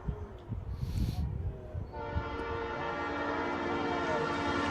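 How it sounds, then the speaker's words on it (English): A passing train near a high school baseball field sounds its horn, a long sustained blare that starts after a couple of seconds of faint crowd and voice sounds and continues to the end. "Here comes the train. Yeah. You'll hear it in a moment."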